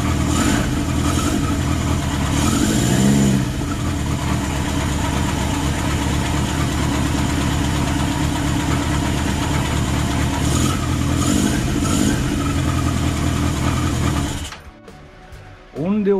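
A Kawasaki Z1 motorcycle engine idles steadily with a baffle fitted in the exhaust. The hum is even and close, with a few faint clicks, and it cuts out near the end.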